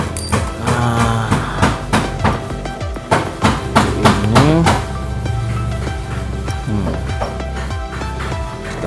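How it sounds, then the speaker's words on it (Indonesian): A hammer bends a nail into a hook while fitting a center stand on a Honda New Megapro Monoshock motorcycle. About ten sharp metallic blows land in a steady rhythm, then a softer ringing tail follows. "kita bengkokkan pakai palu aja"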